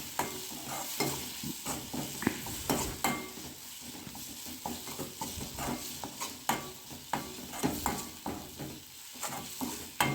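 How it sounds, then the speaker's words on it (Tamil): Curry leaf thokku being stirred with sugar in a pan: a quiet background sizzle broken by a rhythmic series of spoon scrapes and knocks against the pan, repeating steadily throughout, without talk. "இது கூட கொஞ்சமாக நான் சர்க்கரை சேர்த்து அதை நல்லா மிக்ஸ் பண்ணியிருக்கேன்."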